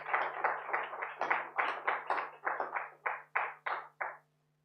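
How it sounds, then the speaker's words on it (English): Hand clapping at the launch of a national entrepreneurship report at a Jamaican university: about a dozen distinct, evenly spaced claps in a steady rhythm, fairly close and clear, stopping abruptly with no talking. "Give them a round of applause."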